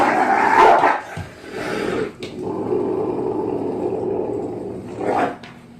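A dog on a played-back training recording gives a loud bark and growl, then settles into a sustained whining whimper with a few sharp yelps and another bark near the end, heard alone without speech.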